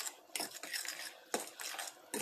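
A utensil stirs beaten egg into Irish potatoes for a Spanish tortilla, giving a few sharp scraping clinks against the bowl with soft mixing between, close and fairly quiet.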